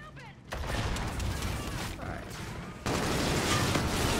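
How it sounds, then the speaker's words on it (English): Call of Duty Infinite Warfare multiplayer firefight: dense bursts of rapid gunfire and sharp impacts fill the clip, growing louder in the final second and a half, with voices talking faintly underneath. "I don't know where I'm getting shot at."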